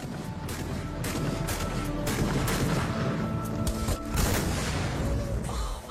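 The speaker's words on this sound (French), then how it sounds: "des comédiens habillés en samouraï commémorent les milliers de morts par des tirs de fusil" Samurai reenactors fire 500-year-old matchlock rifles at a battle anniversary commemoration, a dense, continuous volley of loud overlapping gunshots with sharp cracks and rumbling booms filling the whole stretch.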